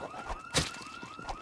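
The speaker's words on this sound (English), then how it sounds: "the alarm was really near my house, so that does mean I have to deal with a lot of zombies coming my way" A car alarm sounds in the Project Zomboid survival game, a steady wailing tone sweeping up and down, fairly faint and distant, with a brief louder burst partway through.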